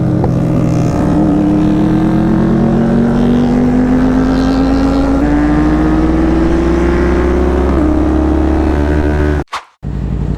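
A 2021 Yamaha MT-09 motorcycle with an SC Project exhaust roars loud and close, its engine note climbing steadily through gears with quick shifts, then cutting off abruptly near the end.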